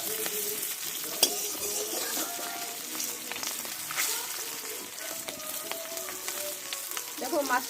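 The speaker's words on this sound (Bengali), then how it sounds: "তেলে আমি ইলিশ মাছের মাথাগুলো ভেজে নেব" Hilsa fish heads fry in hot oil in a pan, giving a steady, close crackling sizzle throughout with occasional stirring and a few sharp pops.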